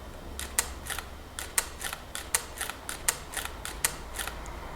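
Nikon D600 DSLR shutter in quiet mode, firing a rapid series of about a dozen soft mechanical clicks in an uneven rhythm, faint and close over a low background hum.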